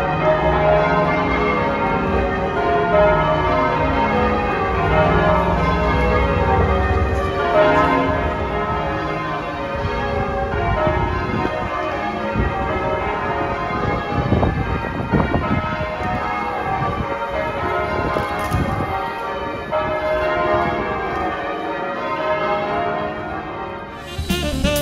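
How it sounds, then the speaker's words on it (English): Quarter bells of St. Peter's Church at St. Peter's Gate in Nottingham ring out loud and clear in a sequence of tolling strokes, with ringing overtones sustaining over a city background. "That was the quarter bells played at St."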